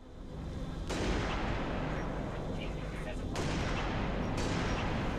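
Heavy gunfire and explosive blasts from Halo Reach combat, a dense, loud, continuous roar of shots with sharp onsets, with voices talking under the din.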